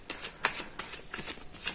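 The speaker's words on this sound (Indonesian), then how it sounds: "kita akan segera shuffle kartunya" Tarot cards are shuffled close up in a quick run of crisp riffling bursts, about five soft rhythmic pulses with nothing else audible.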